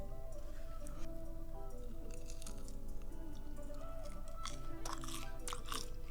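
Crispy fried churros coated in cinnamon sugar being chewed close to the mic, with soft squishy bites and light crunches repeating over a steady low background hum.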